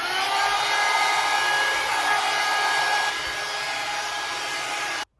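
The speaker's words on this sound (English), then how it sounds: "My hot brush, I'm gonna run this over it first just to smooth it out." A hot brush blows a steady, loud stream of air while smoothing a wig, a continuous whooshing hiss that holds for about five seconds before cutting off abruptly.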